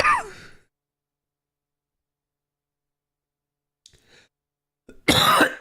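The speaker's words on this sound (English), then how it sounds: "I have a really bad cough today" A painful cough bursts out loud and close after a long silence, with a brief breathy sound before it and a short faint stir in between.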